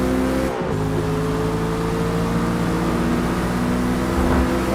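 A race car engine in Forza Motorsport holds a loud, steady high-rpm drone with strong harmonic tones, rising gradually in pitch along a straight, close and constant with a brief crackle early on.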